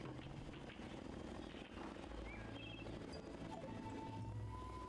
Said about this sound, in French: Elle a été livrée en hélicoptère.